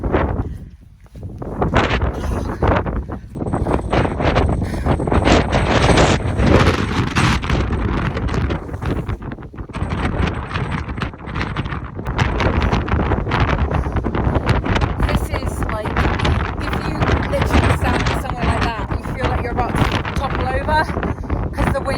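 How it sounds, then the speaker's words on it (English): Strong wind batters the microphone high on Ben Nevis during a storm, a loud continuous roaring buffet that lasts throughout, with voices partly buried beneath it. "the wind is honestly that strong"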